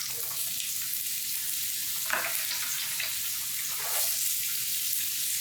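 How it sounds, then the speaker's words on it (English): Vegetables fry in a very hot, oiled pan, a steady loud hiss and crackle that holds throughout with a couple of brief clinks and stirs mixed in. Close-up, no voices. "And then just go ahead and add your vegetables."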